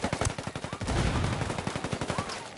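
Sniper rifle shots and rapid gunfire crack in a video game firefight, a dense series of loud sharp reports with repeated bursts close by, no talk.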